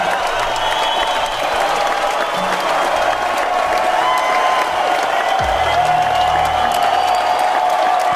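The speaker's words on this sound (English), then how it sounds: "give this man a round of applause, please?" Applause and cheering from the crowd at a live stand-up comedy show. Dense, continuous clapping carries with a few whoops, and a brief voice is heard near the end.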